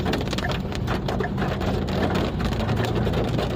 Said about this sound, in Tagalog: Raining in Manila